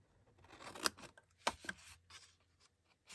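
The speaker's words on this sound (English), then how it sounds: "So cut that off. Cut this one off." Scissors snip paper close by, cutting pieces for a cow-themed treat box. A few sharp, separate crunchy cuts come at uneven intervals with soft rustling between, quiet and with no talking.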